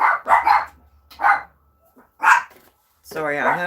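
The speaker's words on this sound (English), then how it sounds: "Sorry, I have puppies." Puppies bark and yip in short bursts nearby in a home kitchen, several sharp barks spaced across the moment, with a low hum underneath and a longer whining bark at the end.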